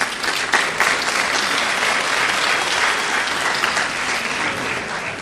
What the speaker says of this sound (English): Give Sean a quick round of applause